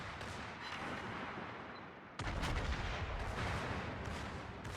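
Heavy naval gunfire from battleships in a World War II naval combat game, including the North Carolina and secondary batteries firing at Toulon: a continuous rumbling barrage with a sharp, louder blast about halfway through, then sustained booming.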